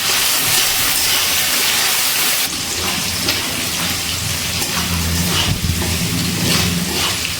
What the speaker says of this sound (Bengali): গ্যাসের ফ্লেমটা হাইতে রেখে চিংড়ি মাছগুলো ভেজে নিচ্ছি।